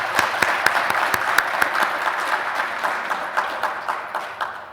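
An audience at a city event applauds local healthcare workers, a lively run of crisp claps that stays fairly loud before gradually tapering off.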